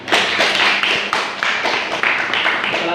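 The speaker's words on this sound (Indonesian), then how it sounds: "Aplaus tepuk tangan." A small gathering at an Indonesian book discussion claps briefly, several quick bursts of hand claps over a roomy murmur, close and fairly loud.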